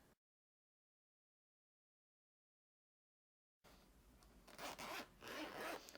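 A zipper pull slides along the zipper of a handmade fabric pencil case, a brief scrape at the start, then silence, then a close rasping run of zipping that grows louder.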